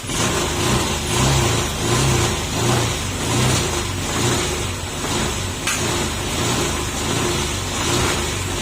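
A warmed-up Honda motorcycle engine revs close by in a series of rhythmic rising and falling swells over a constant loud mechanical rumble, with no speech.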